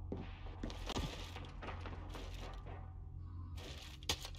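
Grenade blast in Gears 5 multiplayer: a dense burst of crackling, thudding impacts with a sharp jolt near one second and another near four seconds, amid continuous low rumble and battle noise.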